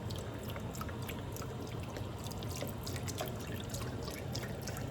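Beef broth poured into a pot of curry beef stew, a steady liquid splash and trickle running continuously at moderate level.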